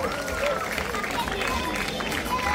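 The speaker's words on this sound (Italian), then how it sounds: "facciamo un grandissimo applauso agli allievi regionali anno 2008 Under 17" Crowd at a Follonica Gavorrano team presentation applauding the regional under-17 youth squad, born 2008: a steady, dense wash of clapping mixed with crowd murmur, fairly close and sustained throughout.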